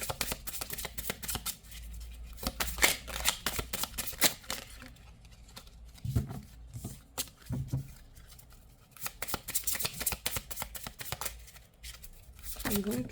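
Tarot cards shuffled and drawn in repeated crisp riffling and slapping bursts, close and moderately loud, with a person talking intermittently over and between the card sounds.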